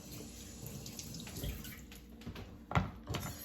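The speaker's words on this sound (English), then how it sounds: "Let's give that a rinse to clean it off." Celery stalk rinsed under running tap water at a kitchen sink, a faint steady splashing stream with a few louder spatters near the end.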